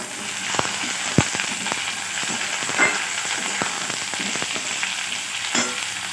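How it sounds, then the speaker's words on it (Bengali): Onion and capsicum fry in a pan with a steady sizzle, scattered sharp crackles and pops, and occasional stirring scrapes close by. "পেঁয়াজটা মোটামুটি একটু ভাজা হয়ে গেছে, এর মধ্যে দিয়ে দেবো ক্যাপসিকাম।"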